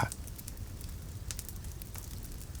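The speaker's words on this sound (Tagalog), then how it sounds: "Paglagitik ng malapit na siga at kulo ng nilagang nakasalang sa apoy ang maririnig." A nearby bonfire crackles steadily with a pot of stew boiling over the flames, giving a continuous low rumble and fizz scattered with sharp pops and snaps, with no talk over it.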